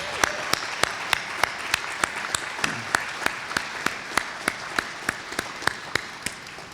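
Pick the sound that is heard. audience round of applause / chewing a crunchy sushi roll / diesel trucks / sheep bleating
audience round of applause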